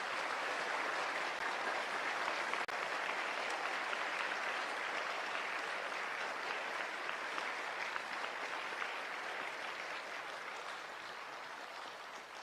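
Audience applause for Swamiji at a Hanuman temple gathering, a dense, steady clapping that fills the whole stretch without a break and fades only slightly near the end, with no voices over it.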